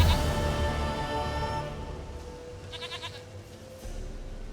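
A goat in The Witcher 3 gives a couple of short, wavering bleats over a low game ambience with a steady tonal background; no one speaks.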